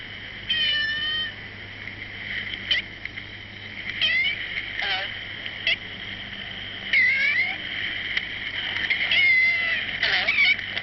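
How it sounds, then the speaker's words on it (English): A cat on an old portable tape recording meows repeatedly in strange, half-human tones. The wavering cries come close together over a constant background of tape hiss and hum. "time we came across this cat and it seemed to talk in half-human tones"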